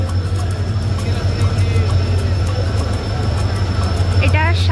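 Train pulling into platform 2 at Shalimar station, a steady low rumble with rail clatter under busy platform noise and chatter, ending in a brief high squeal of brakes.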